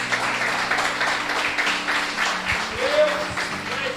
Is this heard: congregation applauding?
yes